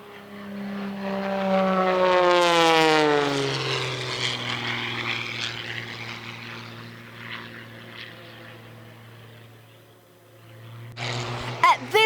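A propeller race plane sweeps through an air race course, its engine drone rising and falling in pitch as it passes close by, loud and alone, fading before a brief closer burst at the end.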